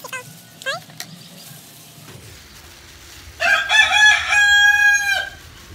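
A rooster crows loudly and close by, a long drawn-out call after a few quieter clucks and rustles.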